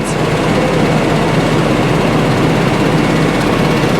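A Claas Axion 940 tractor engine idles with a steady, low drone, a constant rumble and no change in pace throughout.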